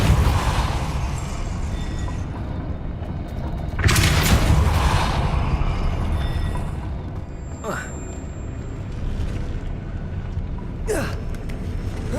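A spell effect from the video game Hogwarts Legacy, a Depulso force push, bursts out as a broad, loud whoosh-like blast with a couple of sharper swishes afterward, heard under steady game background and a voice.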